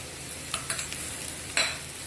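A spinach cutlet mixture with salt, garam masala, chili and turmeric fries in a pan, giving a soft continuous sizzle with a few light stirring clicks and scrapes of a spoon.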